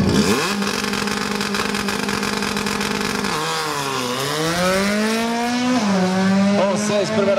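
Volkswagen Gol race car roars past on a circuit at Velopark RS, a loud engine note that drops in pitch as it passes, then climbs again on acceleration.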